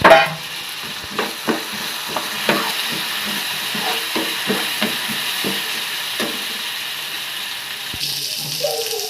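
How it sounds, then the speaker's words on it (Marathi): Soaked dal is sautéed in a pan, and a spoon gives a string of sharp scraping stirs against the metal over a soft, steady sizzle, close and fairly loud. "जी आपण भिजत ठेवलेली डाळ होती डाल थोडी परतून लिया"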